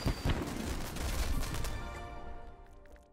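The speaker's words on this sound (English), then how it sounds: "Reaper's playing the fireworks again" Reaper's fireworks emote in Overwatch, a burst of crackling pops and booming bangs that swells loudly and then fades into a sparse tail of distant crackles.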